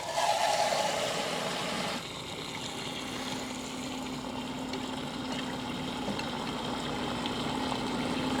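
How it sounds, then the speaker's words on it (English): Tap water runs steadily into a vessel during an enzyme temperature experiment, a continuous close hiss with a low hum beneath it and no talk. "I will add more of the tap water"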